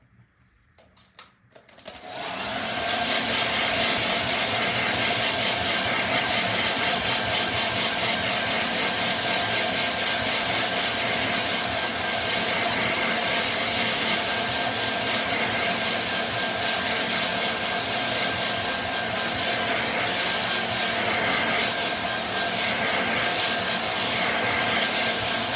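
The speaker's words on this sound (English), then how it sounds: "Let's use our hair dryer." A hair dryer blows across a watercolor countryside landscape painting, starting after a brief quiet moment and then running as a loud, steady whir with no pauses.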